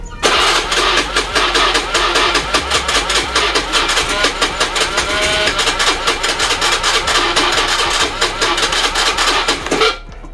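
A weak-starting Honda motorcycle engine cranks and fires, running rough and uneven at close range for about ten seconds before cutting off abruptly.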